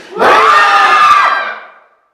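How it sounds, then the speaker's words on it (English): A conference audience at a workplace business talk lets out one big loud scream together on a count of three, a dense crowd roar that swells quickly, holds for about a second and fades away. "1 big loud scream on the count of, so it'll be 1, 2, 3, scream"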